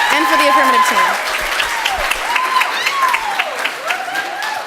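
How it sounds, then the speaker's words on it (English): Applause for debaters at a spring parliamentary debate event, with clapping running under whistles and raised cheering voices, lively and sustained. "Please give her a round of applause for the barista who works at Pete's"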